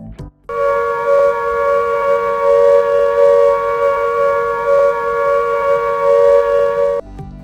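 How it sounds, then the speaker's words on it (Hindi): An emergency alarm siren at an industrial plant sounds one loud, steady tone that starts abruptly, holds for about six and a half seconds and then cuts off. "लगातार 2 मिनट तक सायरन बजना तबाहकुन इमरजेंसी सूरत हाल का ऑडियो सिग्नल है।"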